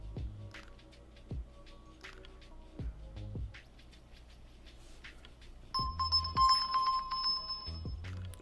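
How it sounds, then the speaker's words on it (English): A phone rings after being triggered by the find-phone feature of a OnePlus Watch, sounding a bright repeating electronic ringtone of chimes that gets louder partway through, over quieter tones and indoor room noise. "So you can hear my phone ringing now."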